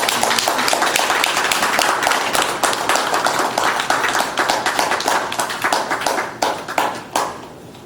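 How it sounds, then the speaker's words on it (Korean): Sustained applause from an audience at a Won Buddhist dharma talk, a dense wash of many hands clapping steadily and loudly for several seconds before thinning out near the end. "우리 박수로 감사한 마음 담아서"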